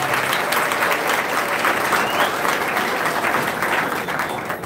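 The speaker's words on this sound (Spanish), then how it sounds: "Un aplauso también para todo el equipo que lo acompaña," Crowd at a political campaign office inauguration in Santo Domingo Oeste applauding the candidate's team, a loud, sustained roar of clapping filling the whole stretch.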